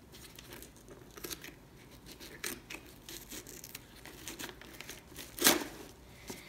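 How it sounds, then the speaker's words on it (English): A cardboard package box being cut open along its side, soft crinkling and tearing of paper and card with a few scraping cuts and one sharper rip near the end, quiet and close. "I have to cut it from the side and save the rest"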